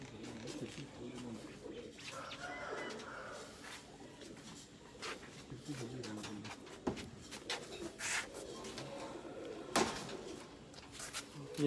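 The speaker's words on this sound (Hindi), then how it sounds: "ये जी अभी आपको जो कबूतर हमने रात को बाहर रखा था" Soft cooing from pigeons kept in a cage outdoors overnight in winter, low murmuring calls rising and falling at a moderate distance, mixed with faint rubbing and wooden knocks and a few brief sharp taps, fairly quiet overall.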